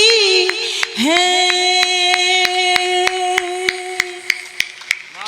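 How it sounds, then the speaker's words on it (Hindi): Steady rhythmic hand claps from an audience at a Hindi comedy poetry gathering, keeping time over a sustained held tone, evenly spaced and moderately loud throughout. "वही आवाज हमको आपकी ताली में आती है"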